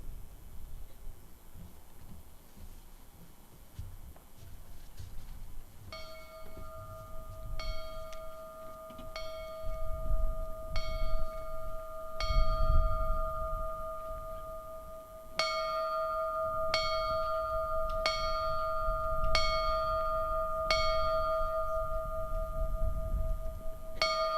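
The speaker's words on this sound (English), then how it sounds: "the bell tolls their last alarm, for they have gone home" A memorial bell tolls the last alarm for fallen firefighters at a national memorial service, sounding in sets of evenly spaced, ringing strikes that hang in the air over a quiet outdoor crowd, with pauses between groups.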